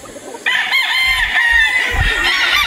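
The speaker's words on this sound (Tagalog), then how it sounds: "So ang daming manok ni Boss Dante." Roosters crow repeatedly in the range area of a gamefowl farm, loud and close, with clucking and faint farm noise around them.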